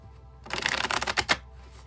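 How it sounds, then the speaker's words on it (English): A tarot card deck is riffled and shuffled in a quick burst of crisp, close flapping and fluttering, loud and alone, settling into a short pause. "we'll shuffle till the deck feels ready, then I'll cut, and we'll deal right off the top"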